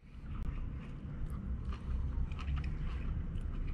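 Crunchy cabbage from a rehydrated dehydrated meal is chewed close to the microphone, soft repeated crunching and mouth sounds over a low rumbling background.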